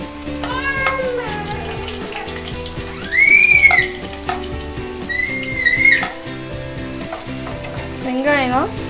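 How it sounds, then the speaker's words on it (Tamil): Four large sliced onions frying in oil for kothu parotta, a steady close sizzle with occasional stirring scrapes, under a continuous music bed. "வெங்காயம் நல்லா வதங்கட்டும்."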